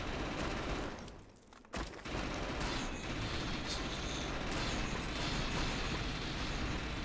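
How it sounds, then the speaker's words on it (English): A bio SMG fired in a multiplayer video game, a dense, continuous rapid-fire rattle with a brief pause near the start before the burst resumes and holds steady, fairly quiet overall and with no talking. "Fairly accurate bio SMG."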